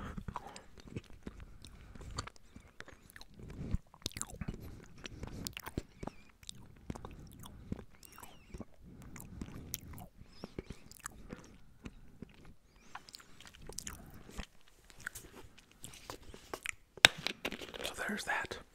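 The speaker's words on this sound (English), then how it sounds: "This might be kind of boring because there's no like crunchy or chewy. It's just like melting chocolate." Soft close-mouth ASMR eating of melting chocolate, no crunch, with quiet wet mouth sounds and faint whispery textures running steadily throughout.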